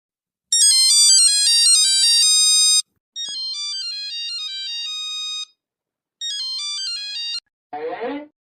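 A mobile phone plays a bright melodic ringtone in three bursts separated by short silences, loud and close, followed by a brief voice at the end.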